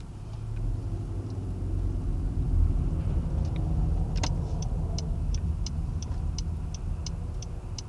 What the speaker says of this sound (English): Can you hear the thumping of the cars above me?